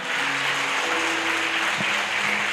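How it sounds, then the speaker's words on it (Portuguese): A church congregation claps steadily, dense applause filling the whole moment at an even level, with a faint sustained tone underneath. "Aplauda Jesus"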